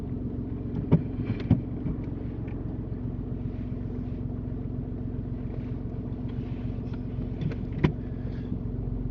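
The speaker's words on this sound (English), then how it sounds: "Now back it out to the left. Back the car goes that way." A car slowly reverses out to the left during a driving lesson, giving a steady low engine rumble with a few soft knocks, no talk over it.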